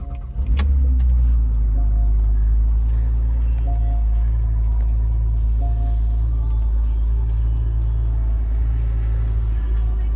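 A 2013 Porsche Carrera Cabriolet with low mileage cranks and catches in under a second, then settles into a loud, steady, close engine idle with a deep rumble, with no talking.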